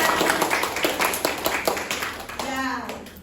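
A small classroom audience of students at a university teaching session claps briefly in a quick patter of hands that fades after a couple of seconds, followed by a voice speaking.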